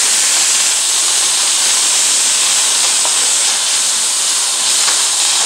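Callaloo and garlic stir-frying in a hot pan give a loud, continuous close-up sizzle and hiss, unbroken and without talk.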